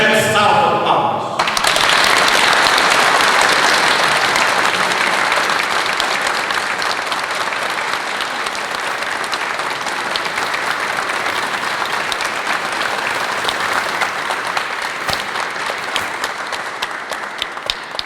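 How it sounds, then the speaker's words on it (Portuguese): Loud, sustained applause from a crowd at a solemn church anniversary ceremony, steady clapping filling the space from start to finish. "uma grande salva de palmas"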